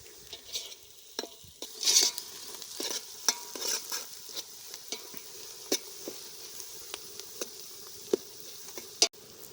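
Bay leaves and onions fry in a pan over a wood fire while someone stirs them. A soft, steady sizzle runs throughout, broken by repeated scraping strokes and sharp clinks of the utensil. The sound is close and fairly quiet, with no talk.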